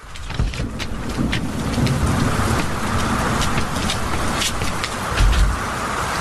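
Heavy rain pours down steadily in a dense, hissing wash, with a brief low rumble near the end.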